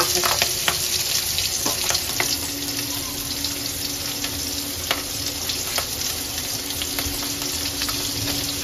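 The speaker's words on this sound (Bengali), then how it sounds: "তো মাছটা একটু ভেজে নেব" Pieces of fish sizzle and crackle steadily in a hot pan, a loud, continuous frying hiss with small pops scattered throughout and no talking.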